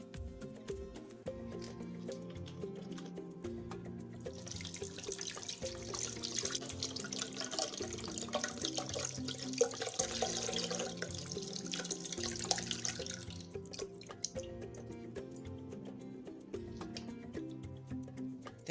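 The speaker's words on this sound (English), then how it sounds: "And then add some coconut water." Coconut water poured from a container into a blender jar holding soaked cloves, a steady splashing liquid stream that swells loud through the middle and then eases off, with no talking.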